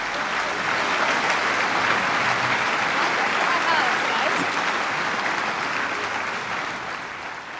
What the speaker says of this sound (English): So Marina Warwick, give her a round of applause, everybody.